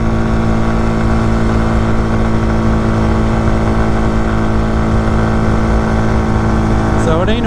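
An RPS Condor 150cc motorcycle drones steadily at full throttle in fifth gear on a slight uphill, its engine tone constant and loud throughout with strong steady harmonics and no break.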